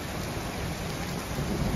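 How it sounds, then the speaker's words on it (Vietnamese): Rain and hail drum on a tin roof during a storm in Melbourne, a dense, steady roar of impacts with low thunder rumbling underneath, no voices. "Cái đây mà nhà mái tôn nó kêu thấy thương luôn."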